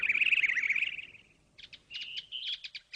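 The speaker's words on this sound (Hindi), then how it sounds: "चिड़िया दिख गई।" Cartoon birds in the Chimpui cartoon give a sustained warbling call, then a short pause, then a string of quick, crisp chirps, clear and alone.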